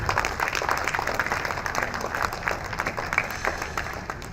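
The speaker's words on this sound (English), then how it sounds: "Please, another round of applause for my chairman." Applause for the chairman at a memorial lecture, a dense continuous patter of clapping from the audience holding steady throughout at moderate level, with faint crowd murmur beneath.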